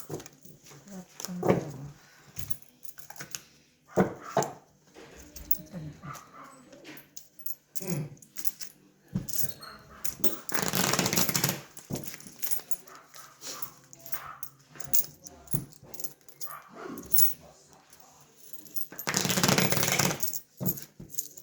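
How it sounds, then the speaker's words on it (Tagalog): A dog yips and whimpers on and off while people talk nearby, with occasional louder bursts of noise. "Bigay mo na si Max, maingay"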